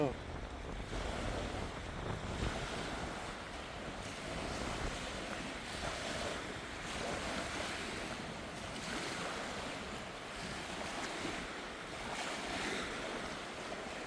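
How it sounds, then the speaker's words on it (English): Wind gusting across a campsite, a continuous broadband rush buffeting the microphone for the whole stretch, steady and loud with no clear talk. "Come on, wind, go away."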